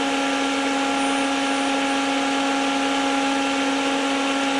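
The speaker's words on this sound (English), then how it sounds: "let me stop the motor." A spindle motor on a Yaskawa spindle drive with faulty transistor power modules gives a steady, loud electrical whine and hum with a fixed pitch and constant level, and no talking.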